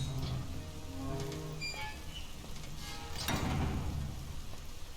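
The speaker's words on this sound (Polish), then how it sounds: "Ale leje, no pogoda paskudna." Steady heavy rain in Detroit: Become Human, a dense continuous downpour hiss around an abandoned-looking house, with a brighter splash or crack near the middle and no talking.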